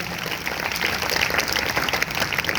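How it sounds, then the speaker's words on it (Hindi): Brief burst of congregation applause during a Sunday church service, a dense, fairly loud clatter of many hands lasting a couple of seconds. "अगर आए तो जोरदार तालियां बजाएंगे"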